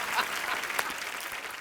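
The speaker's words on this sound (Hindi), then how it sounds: "इन फिरंगी लड़कियों के लिए जोरदार तालियां।" Brief applause from a studio audience at a comedy show, a fairly soft, continuous patter of clapping with voices mixed in.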